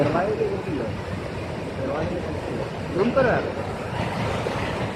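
Floodwater pours into a street lane near a broken bridge wall, a continuous rushing, churning noise heard close up, with voices talking over it at times.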